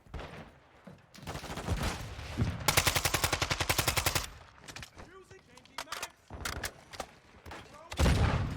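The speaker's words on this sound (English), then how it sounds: "You saw where that gunfire came from, Mayo champ." Rapid bursts of automatic gunfire in Call of Duty with loud individual shots, mixed with excited shouting voices and game sounds; a long rattling volley dominates the middle.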